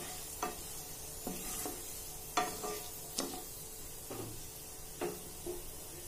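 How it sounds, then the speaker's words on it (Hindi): Bay leaf, cinnamon and other whole spices are stirred as they fry in a pan: a quiet, low sizzle is punctuated by separate scraping and knocking spatula strokes every second or so, close but soft. "तेज पत्ता लेंगे, सभी मसालों को चला लेंगे।"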